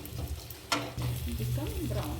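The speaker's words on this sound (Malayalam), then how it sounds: "അപ്പം അത് നന്നായിട്ട് ആ എണ്ണയിൽ മൂപ്പിച്ചെടുക്കുക" Masala for a Kerala-style chicken curry fries in oil, a soft close sizzle with a brief stirring scrape and a voice speaking over it.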